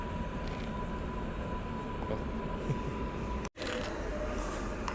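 A Koleje Mazowieckie passenger train bound for Żyrardów rolls past in Warsaw, giving a steady, broad rumble and hiss that holds level throughout, with one abrupt momentary dropout near the end.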